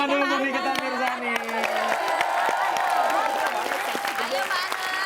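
A studio audience on a celebrity ranking show claps and cheers steadily for Nikita Mirzani, a dense patter of hands with whoops and crowd noise, while people talk over it throughout.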